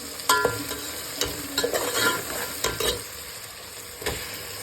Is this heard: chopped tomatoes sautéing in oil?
yes